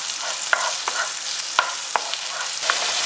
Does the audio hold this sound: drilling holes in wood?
no